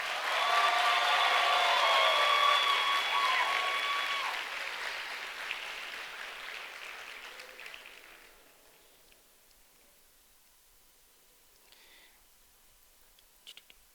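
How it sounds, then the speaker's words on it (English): Audience applause for a graduation panel, loud and full at first, then thinning and fading over several seconds until only a few scattered claps and faint room sounds remain. "Please give our panel a round of applause."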